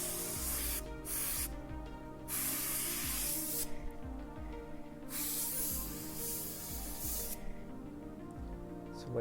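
An airbrush spraying paint for airbrush art hisses in short and long bursts, cutting on and off in irregular stretches over a low background hum.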